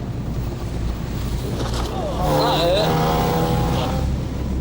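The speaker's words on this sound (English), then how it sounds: "a force 7 wind is whipping up 2 to 3 metre swells" Strong wind and rough sea swells, driven by a force 7 gale, buffet an RNLI lifeboat on open water, giving a steady loud roar with engine drone beneath and a brief whining tone midway.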